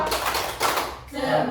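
A group of adults claps a short rhythmic chant pattern at a positive-discipline training session in Indonesia, sharp hand claps in quick bursts mixed with voices.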